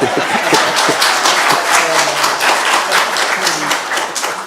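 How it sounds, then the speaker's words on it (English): An audience at a press conference on health care in Fort Erie and Port Colborne gives a round of applause, steady dense clapping filling the space for several seconds with a few chuckles mixed in. "you can give Tom a round of applause if you like"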